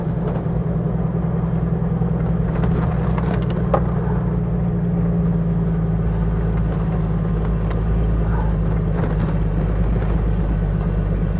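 A Jeep YJ in four-high climbs an icy, snowy hill, its engine a steady low drone heard from inside the cab, with faint knocks and rattles over the constant rumble and no talking.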